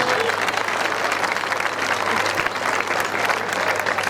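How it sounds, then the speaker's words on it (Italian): A dense, steady round of applause from a concert audience in Bitti fills the space, loud and continuous for several seconds with no talk over it. "Un grande applauso."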